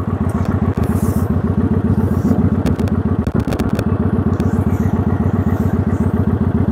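A motorcycle engine chugs loudly and close in a rapid, even pulse as the bike eases away in first gear on the clutch with no throttle, with a few light clatters and knocks over the engine.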